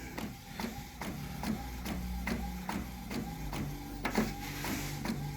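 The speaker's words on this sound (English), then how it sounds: "Just by the sound that the printer head's making, I think we got it." An Epson WF-7210 printer head moving during a DTF print, with steady rhythmic clicks and shuttling mechanical whirs repeating about every half second, close and continuous.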